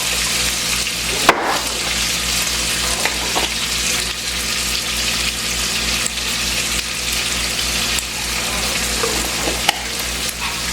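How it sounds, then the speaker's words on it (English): Potatoes fry in hot bacon grease in a cast iron pan, a steady dense sizzle running throughout with occasional sharper pops and stirring knocks. "I'm going to put the potatoes in this bacon grease."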